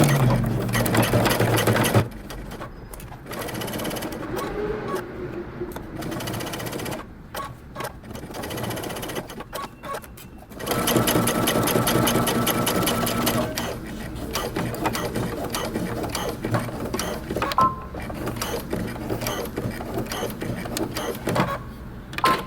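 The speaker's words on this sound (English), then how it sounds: "I'm going to stitch all the way around the edge of my pocket" A sewing machine stitches around the edge of a jeans pocket, its loud, steady mechanical hum running in several long bursts with short pauses between them. A voice speaks briefly at one point.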